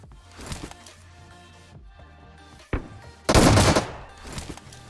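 Shotgun fire from an S12K in the mobile game PUBG Mobile: a few sharp, loud blasts, the heaviest burst near the end, separated by quieter game background.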